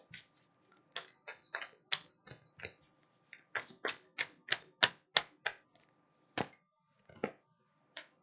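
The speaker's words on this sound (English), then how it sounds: "I'm going to shuffle again." Tarot cards being shuffled by hand in close, quiet, crisp flicks and taps, a dozen or more irregular bursts with short gaps, and no talking.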